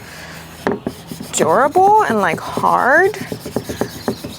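A shellac-primed kitchen cabinet is hand-sanded lightly, giving close, scratchy rubbing strokes in short bursts while a person talks over them.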